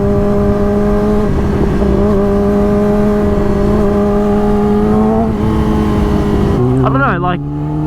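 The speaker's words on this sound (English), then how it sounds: "Oh, the fucking exhaust sounds so good." A 2019 Yamaha R6 motorcycle with a loud, steady, high-pitched engine and exhaust drone held on throttle, then a sharp shift and rev change near the end, recorded close and continuously.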